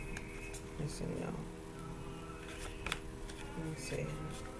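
Tarot cards are shuffled in brief papery riffles and flicks, with faint murmured talk underneath, close by.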